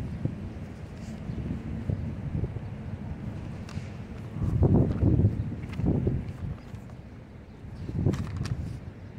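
Outdoor wind gusts buffet the microphone in low rumbling surges, steady background turbulence swelling into stronger bursts midway and near the end, with no talking.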